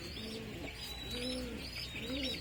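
Pigeons coo softly in repeated low, rolling phrases beside a group of chicks, with faint chirps over a steady background hiss.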